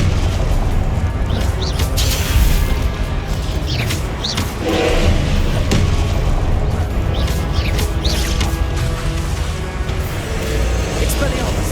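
Continuous crashing blasts and booms from spellcasting in the Hogwarts Legacy video game, with Confringo fire explosions layered into a dense, loud, unbroken din of impacts and rumbling.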